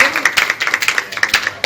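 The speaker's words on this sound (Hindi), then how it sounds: "ताली बजा दो उनके नाम।" An audience claps in response at a public talk about the Indian constitution, producing a loud run of fairly quick, fairly even claps, with a voice heard alongside.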